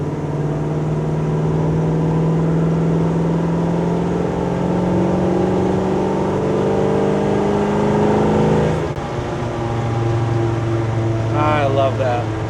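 A 1969 GMC C1500 pickup with a 402 big-block V8 drones steadily as it drives into a corner, its deep engine note shifting in pitch through the turn under a continuous road rumble.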